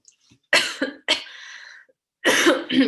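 Several harsh coughs from a person with a cold, in quick bursts, a pair close together, then a pause and two more, loud and near with no talking.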